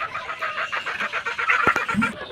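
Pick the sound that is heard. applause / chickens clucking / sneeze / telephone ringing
chickens clucking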